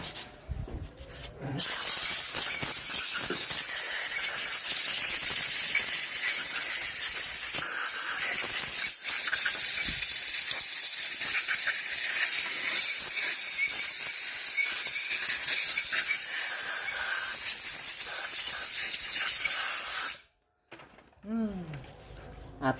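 A steady, loud hissing spray directed at a Honda Beat 2020 engine block part runs continuously for about twenty seconds, with faint rubbing and clicks beneath, then cuts off abruptly.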